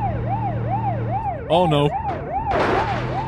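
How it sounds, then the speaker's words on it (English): An emergency vehicle siren in the BeamNG.drive driving game wails in a steady, rising and falling cycle. A man briefly exclaims midway, and a short harsh burst cuts in near the end. "Listen to the siren."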